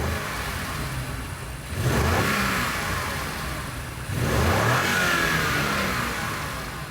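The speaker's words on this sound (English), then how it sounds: "have a listen to this stock intake now." Stock intake of a BMW M5 G90 engine revving twice, each rev swelling up loudly and holding before easing off, close and clear with no talk.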